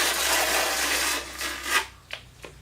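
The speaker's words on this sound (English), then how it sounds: "remember you want to keep your trowel straight up and down" Notched trowel combing tile adhesive onto a wall while laying wall tile, heard as a steady close rasping scrape that runs continuously before ending in a few shorter strokes.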